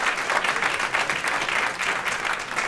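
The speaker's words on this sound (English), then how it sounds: "one large, big round of final applause" Audience applause fills the room after a theater and panel event, a steady dense clapping from a large crowd that continues without a break.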